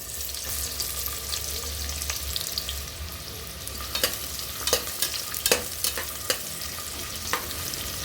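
Steady frying hiss of sliced onion in oil in a pressure cooker while a spoon scrapes and stirs, with a run of sharp metallic knocks in the second half, no voices.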